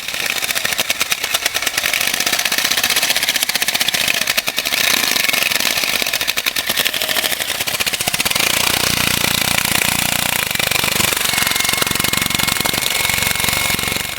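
A belt sander grinds white paint off 1968 VW custom wheel covers with a cheap plastic-backed belt, a loud, steady abrasive roar running continuously throughout.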